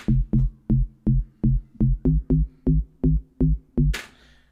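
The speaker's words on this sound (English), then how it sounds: "the chorus bass sounds like this" A deep, punchy bass line pulsing in a steady rhythm, about ten thick low notes in a row, ending with a brief noisy burst.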